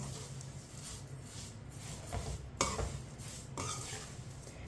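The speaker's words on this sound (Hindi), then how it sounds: "सेवइयों को मिक्स कर लेंगे।" Vermicelli for sweet seviyan being stirred into oil in a pan over a low flame, with soft scraping strokes and a couple of sharper clinks of the utensil, close and fairly quiet.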